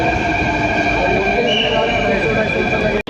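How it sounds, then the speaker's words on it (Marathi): A Jaipur metro train pulls into a station with a steady rumble and high electric whine, close and loud, with a brief cut near the end. "तर काही आमची ट्रेन आलेली आहे आता"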